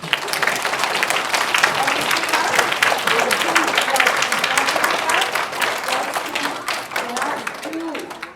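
A school assembly crowd, including young children, gives a big round of applause, sustained steady clapping for about eight seconds with scattered voices underneath before it tapers off.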